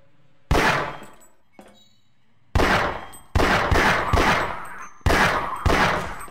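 Gunshots in the video game Half-Life ring out as sharp, loud single blasts, first one and then a rapid string of four with decaying echoes, each followed by ringing metallic debris.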